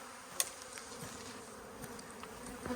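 Honeybees from a freshly shaken swarm buzzing and fanning nearby, a soft continuous hum with occasional sharper buzzes of individual bees passing close.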